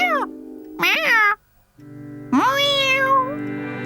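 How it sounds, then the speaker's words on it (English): A cartoon cat meows loudly and clearly three times, with drawn-out tonal calls separated by a short silence, over a faint steady background hum. "Meow. Meow."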